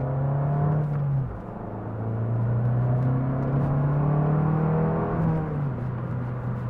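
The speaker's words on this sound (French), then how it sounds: "vous entendez vraiment bien la sonorité de la voiture et c'est assez agréable si je fais une petite accélération" Abarth 595 Scorpionero engine heard from inside the cabin, a steady low drone that dips briefly then rises as the car accelerates, loud and continuous with no talking.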